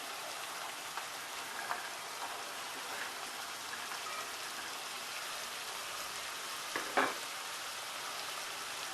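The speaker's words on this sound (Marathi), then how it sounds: "मस्त परतवून घेऊया" Mixed vegetables sautéing in a pan for Maharashtrian bhogichi bhaaji, with a faint, steady crackling sizzle like light rain, and one brief clatter near the end.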